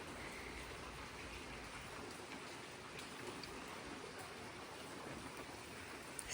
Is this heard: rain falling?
yes